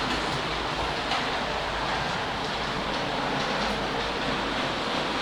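An OO gauge Bachmann A2 model locomotive runs over points on a layout. It gives a steady, even rumble of wheels on track, fairly close, with no talking.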